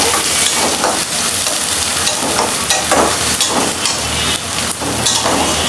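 Chopped onion and garlic fry in a pan with a loud, steady sizzle and crackle. Occasional stirring scrapes run through it, close and continuous.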